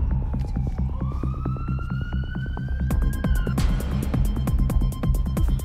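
An ambulance siren wails with slowly rising pitch over a steady throbbing rumble, followed by a burst of broadband noise; no voices.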